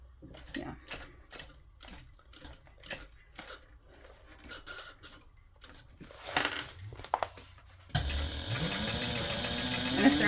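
A sewing machine stitching a pocket onto a fabric binder cover gives quick rhythmic needle taps in short runs, followed by a louder, denser stretch of continuous stitching near the end.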